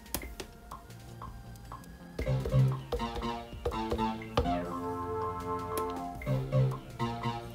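An Animoog synth on an iPad, triggered from Maschine in keyboard pad mode and dropped two octaves, plays a repeating bass sequence of plucky, tonal notes at a steady close level, with no talking.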